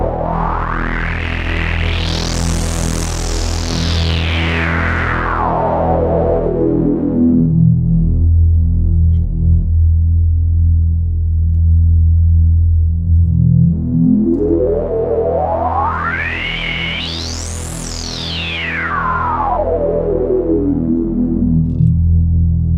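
Dirty industrial preset on an Oberheim Matrix-12 synthesizer: a loud, gritty sustained drone whose bright filter sweeps up and falls back twice in slow, siren-like arcs over a throbbing low hum.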